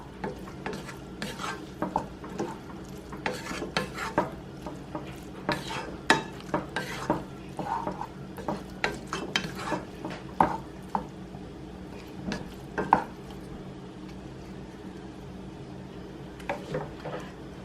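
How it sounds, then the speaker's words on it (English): Milk and butter for boxed Kraft mac and cheese get stirred around a pot, producing repeated close scraping strokes and spoon clinks against the metal in an irregular rhythm, with a faint background hum and no voices. "I'm going to go ahead and stir the milk and the butter around and just let that heat up for a moment."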